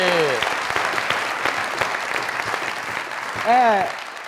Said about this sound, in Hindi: जरा तावला साहब के लिए जोरदार तालियां।